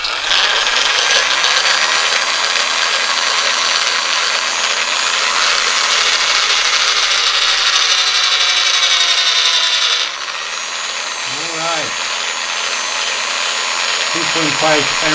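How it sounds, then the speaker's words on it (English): Small geared DC motor running at 6 volts from a bench power supply: a loud, steady high-pitched whine and buzzing gear drone that dips slightly partway through, with brief warbling pitch changes near the end. "Okay, I'm gonna try this one. It's a geared DC motor."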